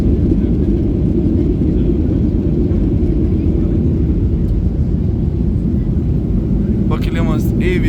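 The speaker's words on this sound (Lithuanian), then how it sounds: "Pakilimas įvyko." An airplane takes off, heard from inside the cabin: a steady, loud low roar that holds throughout, with a brief voice near the end.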